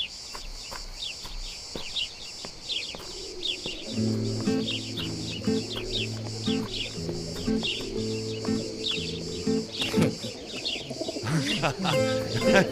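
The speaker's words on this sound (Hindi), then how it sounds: "सादिक, लाओ कबूतर निकाल के दो मुझे।" Pigeons coo in low, repeated throaty calls amid scattered chirps and fluttering, with a busy background of other birds.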